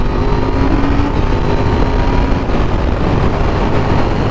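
A 2021 KTM 890 Duke R motorcycle engine held at mid revs without accelerating, a loud, dense, continuous roar with steady throbbing and wind noise, heard close up.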